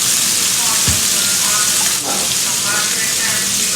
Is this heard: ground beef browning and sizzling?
yes